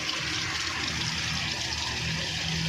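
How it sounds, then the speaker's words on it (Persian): Tap water rushes steadily through a car heater radiator being flushed on a Pars, Samand or Peugeot 405, a loud constant hiss and gurgle of flowing water with no pauses. "الان از هر دو طرف به خوبی آب بیرون میاد"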